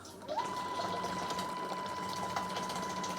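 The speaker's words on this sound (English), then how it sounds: "And you see we get a nice steady stream of water." A Kamoer X2SR waste pump pushes a steady stream of water out of its output pipe, a continuous even hiss and trickle with a faint constant whine running underneath, close and moderately quiet throughout.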